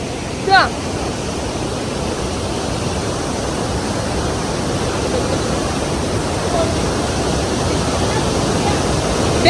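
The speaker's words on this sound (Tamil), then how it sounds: "பெரிய அருவிங்க இங்கே பாருங்க பாக்குறதுக்கு" A steady, loud roar of rushing water fills the whole stretch, constant and broadband from a big waterfall close by at Valparai, Tamil Nadu, with a brief voice early on.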